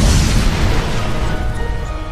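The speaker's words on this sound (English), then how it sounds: "there was already a pool of propane in there, causing the explosion" A propane gas explosion inside a clay-making machine, staged for a TV drama, erupts as one loud, sustained roaring boom that slowly trails off.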